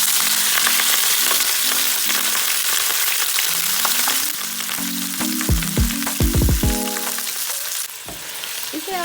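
Around 500 grams of mutton sizzles loudly in a pan for Pakistani daal gosht, a steady frying hiss with metallic clinks of a utensil stirring partway through.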